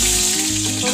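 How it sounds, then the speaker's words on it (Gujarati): Mustard seeds, cumin and whole chillies hit hot oil for a Gujarati tempering, giving a loud, close, continuous sizzle with no voices, all in a brief burst. "આપણે વઘાર માટે રાઈ, જીરું અને આખા મરચાં લઈ લીધા છે. તેનો વઘાર કરીશું."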